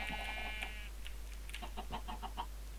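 Chicken clucking in the Minecraft video game, a few short game-sound clucks followed by scattered blocky in-game noises over a steady low hum.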